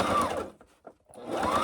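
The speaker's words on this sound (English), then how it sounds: "we're just going to stitch straight across" A sewing machine stitches straight across quilted fabric for a padded zipper bag, two close bursts of rapid whirring with a brief pause between.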